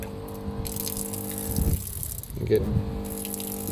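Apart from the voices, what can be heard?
on-board water pump pushing water flow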